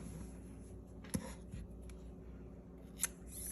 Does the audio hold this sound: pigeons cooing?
no